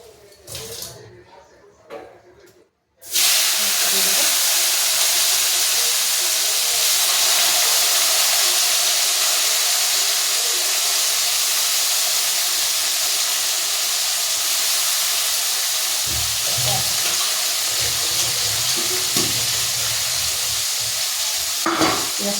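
Onion sizzles loudly in hot oil with cumin seeds, a dense, constant frying hiss that starts abruptly after a few quieter seconds of faint kitchen noise and carries on steadily with occasional stirring.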